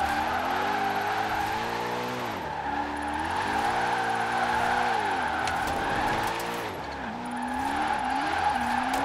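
Car drifting in the Forza Horizon 4 video game, a steady engine drone with sweeping pitch shifts and continuous tire squeal, loud and close throughout with no talking.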